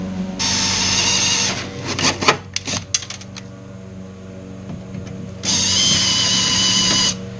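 Power drill whirring against car bodywork while screws are driven into enlarged rivet holes, two long steady runs at the start and end with clanks and knocks of handling between them, close and loud.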